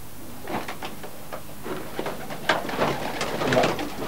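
Young racing pigeons coo inside their loft, soft repeated calls overlapping from several birds nearby along with light rustling and a faint knock.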